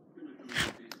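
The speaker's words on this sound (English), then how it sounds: "I'm gonna eat some steak before I go to bed." A Minecraft character eats steak: a short crunchy bite near the middle and a brief chomp right after, heard over quiet game background.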